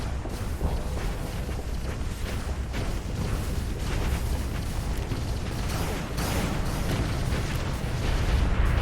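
A semi-brief weapon fired in the space game Starsector produces a continuous roaring wash of explosive booms and crackling bursts, loud and sustained, swelling slightly toward the end with no speech.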